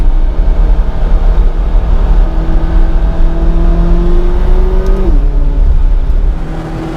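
A McLaren 570GT accelerates hard in a straight line while driving up a volcano, heard from inside as a loud engine roar that climbs steadily in pitch, drops sharply at a gear change, then pulls on with no talking.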